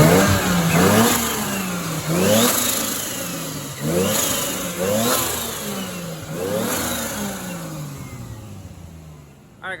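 A Mercedes 450SL fitted with a swapped Toyota 2JZ engine revs repeatedly, about five rising-and-falling throttle blips in a steady rhythm, loud and close, dropping away near the end.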